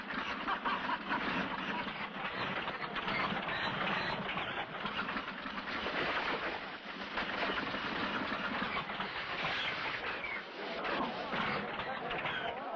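A struggling steam locomotive strains and rattles on the rails in a continuous, dense clatter and rumble with brief dips, and voices are mixed in.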